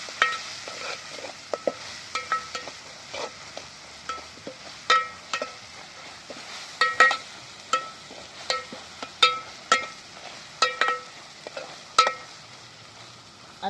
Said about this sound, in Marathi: सगळं मसाला आता टाकून घेतला मस्त हलवून घ्यायचं